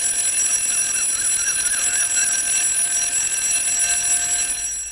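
An alarm clock ringing loudly and continuously, a shrill steady electronic bell tone filling the room for several seconds before fading slightly at the end, no voices.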